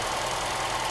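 A Mercedes W123 230E with mechanical fuel injection runs at steady idle around 1200 rpm, a continuous even engine hum with a slight knocking tick, close up and uninterrupted.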